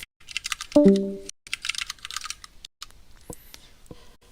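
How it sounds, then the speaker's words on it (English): Typing on a computer keyboard, a close run of quick irregular key clicks in short bursts with brief pauses, plus a single tonal beep near the start. "I noticed I could hear myself typing quite loudly on the stream."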